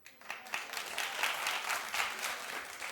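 A studio audience on a daytime talk show applauds, with steady, dense clapping from many hands at moderate loudness that holds throughout without a break.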